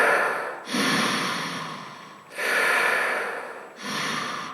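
A man imitates Darth Vader's mechanical breathing as the opening of a snoring impression, three long, loud, rasping breaths close to the microphone with brief gaps between them.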